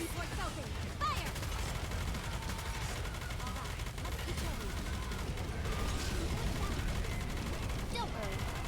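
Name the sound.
gunfire in the video game Goddess of Victory: Nikke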